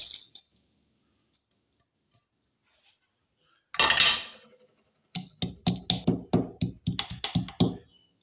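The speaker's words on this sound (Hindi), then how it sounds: "हमारे पास आमन दस्ता है और इसको जो है ना हम इसमें मोटा मोटा कूट लेंगे" Whole spices for masala chai pounded coarsely in a metal mortar and pestle: one ringing scrape, then a run of about nine sharp metallic clanks in a steady rhythm, close and fairly loud.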